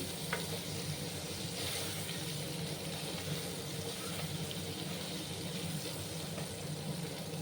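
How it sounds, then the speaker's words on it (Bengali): Drumstick curry sizzling steadily in a pan as it is stirred, a dense continuous frying hiss heard close up with no talking. "আবার ভালো করে নাড়াচাড়া করে দিচ্ছি আমি"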